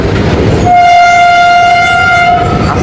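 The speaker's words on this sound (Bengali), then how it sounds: "এটা কয়লার ট্রেন।" A coal freight train passing close by on a railway line, its loud sustained horn blaring for about two seconds over the steady roar of rolling wagons.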